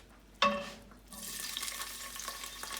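Artichoke hearts drop into a hot pan with parsley and garlic, giving a sudden clatter and then a soft, even sizzle that spreads out and holds, fairly quiet and with no talking.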